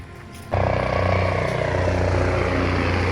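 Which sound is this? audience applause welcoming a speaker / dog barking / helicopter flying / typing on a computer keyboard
helicopter flying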